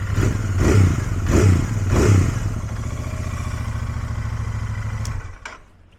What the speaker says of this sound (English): I'll give it a couple of revs for you.